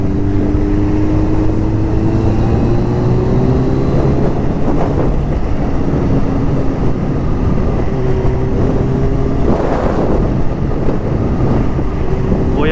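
A Kawasaki Ninja H2 motorcycle accelerates under heavy wind buffeting, its engine note rising in pitch through the gears while the rider is moving at speed.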